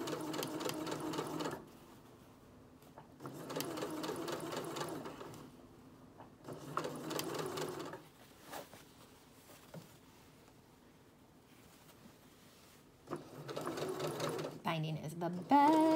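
A sewing machine stitches binding onto the neckline edge of a dress in several sustained bursts of steady mechanical whirring. These alternate with quieter pauses and small clicks, and the machine is close and clearly audible.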